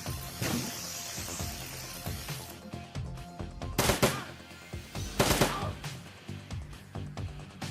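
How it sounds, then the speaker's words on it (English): Automatic turret firing in the video game Shadowrun Returns, rapid bursts of gunfire crackling in repeated volleys against a busy game soundtrack, with two louder bursts standing out near the middle. "Oh, hey, that's our turret."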